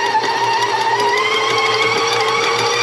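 Stand kitchen mixer working bread dough with a dough hook, a loud steady motor hum with a constant whine and no breaks, close by and alone.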